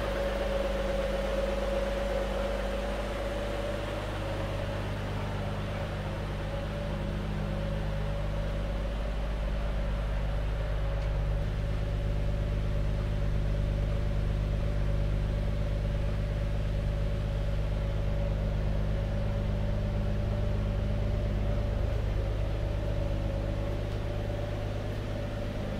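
An early Ford Falcon engine idles steadily while warming up, a constant low hum with an even mechanical drone and faint whine that holds unchanged throughout; no talking.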